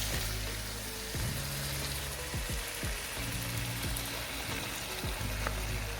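Pasta stirred in a frying pan of spicy butter sauce sizzles steadily, with repeated scraping strokes of the utensil across the pan in an uneven rhythm, close and continuous.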